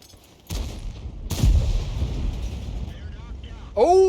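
Artillery shell explosions in World of Tanks, two heavy blasts in quick succession with a long rumbling tail, followed by a short burst of speech at the end.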